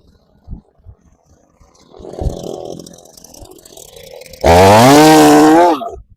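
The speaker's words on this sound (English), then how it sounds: "Amen to the chainsaw." A few knocks and a low rumble, then a loud chainsaw cutting a thorny tree revs up with a harsh, buzzing roar for over a second before cutting off.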